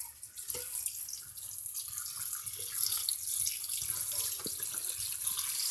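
Tap water runs steadily over pickles in a colander, a continuous close hiss and splash with small spattering variations and no speech.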